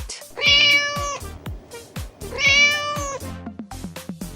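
A cat meowing twice, two long, clear, close meows separated by a pause, with faint rhythmic clicks in the background.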